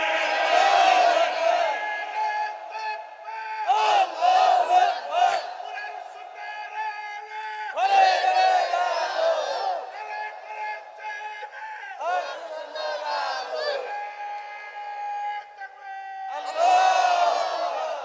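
A large crowd roars back in unison to a Nara-e-Takbir call, loud chanted shouts arriving in about five separate swells, each rising and falling over a second or two with brief pauses in between.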